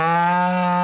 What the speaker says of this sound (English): I don't think cows can get bored, can they, Amy?